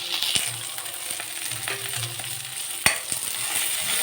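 Green chillies and curry leaves hit hot oil in a pan for a tamarind pakodi curry, giving a steady crackling sizzle with occasional stirring clinks and one sharp metallic tap.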